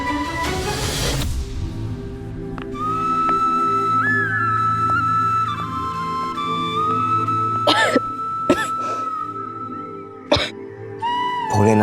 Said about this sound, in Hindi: इतनी खांसी हमें क्यों आ रही है?